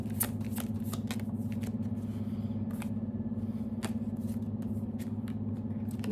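Tarot cards shuffled continuously by hand, a rapid steady riffling and flicking of card stock, close and clear over a constant low hum, no talking.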